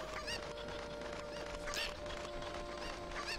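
Several chickens cluck in Zelda: Ocarina of Time, with scattered squawks, a louder burst near the middle and more at the end, all over continuous game ambience and no voices.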